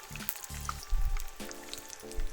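Pasta frying in deep oil for a dish with salsa and parmesan, a steady crackling sizzle with scattered pops, close and moderately loud.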